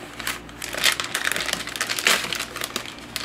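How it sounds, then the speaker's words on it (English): A resealable package of panko breadcrumbs crinkles up close, giving rustling, crackly plastic bursts that swell and fade over a few seconds with no talk. "1/2 cup of panko breadcrumbs. These are pretty convenient because they come with a resealable package."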